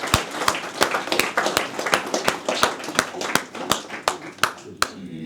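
Applause at a community meeting, a small audience giving sharp, distinct, fairly close hand claps in an uneven steady rhythm for about five seconds, with a little background talk.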